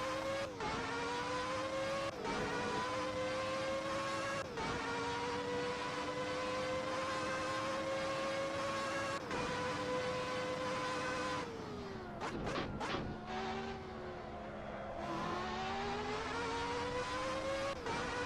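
A race car engine in a Brazilian Grand Prix racing video game drones loudly and steadily, its pitch stepping through gear changes, dropping sharply under hard braking, then climbing again as the throttle reopens, with no talk over it.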